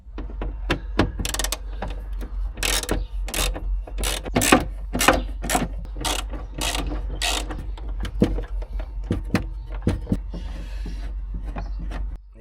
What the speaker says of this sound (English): for that I need to remove these 1, 2, 3, 4 and 5 screws with the Torx 20-bit